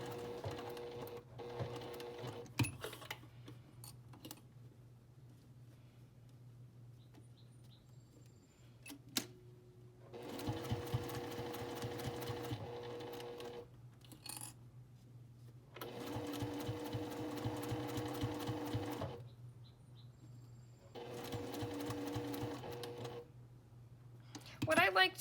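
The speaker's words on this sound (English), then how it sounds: "just keep stitching straight until you grab just a little bite of the binding on that next side" A sewing machine stitches quilt binding in three long bursts of steady, buzzing running separated by pauses, with a few soft clicks and handling noises between runs; no one speaks.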